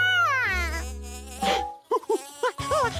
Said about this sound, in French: Encore des abeilles?